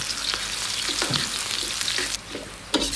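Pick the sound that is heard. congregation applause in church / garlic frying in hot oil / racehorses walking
garlic frying in hot oil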